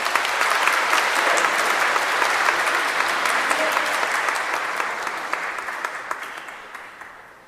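Sustained applause from a church audience welcoming an elderly Catholic priest at a golden jubilee celebration, a dense steady roar of many hands that fades gradually toward the end.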